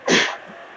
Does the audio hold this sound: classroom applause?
no